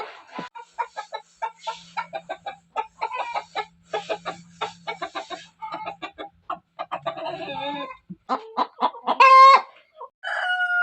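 Village hens in a coop cluck busily and continuously, close and loud, with rising squawks and a rooster-like crow near the end, no people talking.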